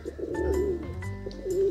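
Soft pigeon coos rise and fall twice, close by, with faint chirps and a low background rumble; no one speaks.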